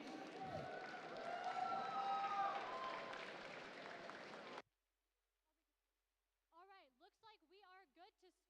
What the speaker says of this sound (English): Give some round of applause to these 3 teams.